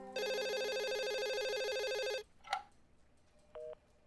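A telephone rings with a loud electronic trill for about two seconds, then stops, followed by a click and a short beep.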